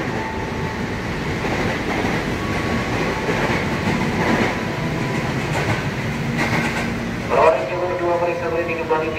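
A KRL Commuter Line train rolls into Tanjung Barat station in Jakarta with steady rumbling and clattering wheels, while a voice talks over it and brakes squeal near the end.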